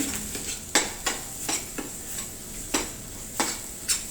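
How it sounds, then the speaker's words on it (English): Kharda, a coarse chilli-garlic paste, fries in oil over high flame, with a steady sizzle broken by sharp spatula scrapes and clinks against the pan roughly every half second, close and fairly loud. "You need to cook kharda on high flame for 1 minute"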